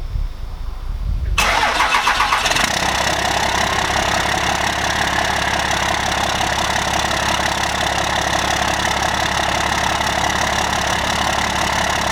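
A 1996 Dodge Cummins 12-valve diesel truck engine cranks briefly, then catches and settles into a loud, steady, clattering idle that runs continuously with no talk.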